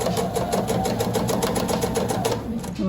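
A sewing machine runs steadily while stitching binding onto a scrappy quilted placemat, with a loud, even, rapid mechanical chatter held for the whole stretch.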